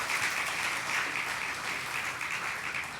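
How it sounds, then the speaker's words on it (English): A church congregation applauds as a man named John is welcomed to the stage for a Sunday morning sermon, a steady, dense wash of clapping filling the whole moment without pause. "give a round of applause and welcome him to the stage now."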